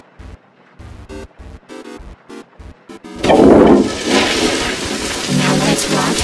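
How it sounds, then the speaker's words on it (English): A cartoon toilet flush in an animated short rises into a loud, sustained rush of swirling water after a few seconds of sparse tonal blips, then keeps churning steadily to the end. "Alright, let's flush the toilet."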